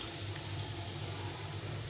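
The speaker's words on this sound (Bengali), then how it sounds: "এখন আমি এই সর্ষের জলটা দিয়ে দেবো" Mustard water poured gently into a pan of hilsa fish curry with potatoes and aubergine, a soft steady liquid trickle that is faint and continuous with no talk.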